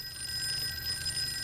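A telephone ringing in a video game, a continuous high electronic trill of fast repeating pulses held steady over a low hum, moderately loud with no talk.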